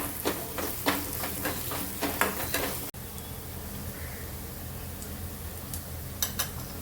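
Turmeric fries in hot oil while a spoon scrapes and clinks against the pan in a quick rhythmic stir, then a steady sizzle continues with a few final taps.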